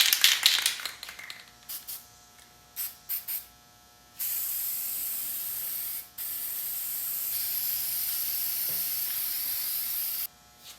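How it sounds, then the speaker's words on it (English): Black paint sprays onto a Chevrolet Silverado grill for a second coat, first in short hissing bursts, then in long steady hisses broken by brief pauses, close and fairly loud with no talking. "let's go ahead, hit it with our second, and what I think may be our final coat"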